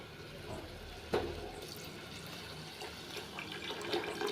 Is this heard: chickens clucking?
no